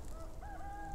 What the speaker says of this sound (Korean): 해가 지는데 왜 닭이 계속 우는지 모르겠어요